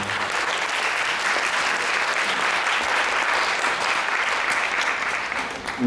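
An audience at a poetry talk and conversation event with Alain Badiou bursts into sustained, dense applause that carries steadily throughout, then tapers off at the very end.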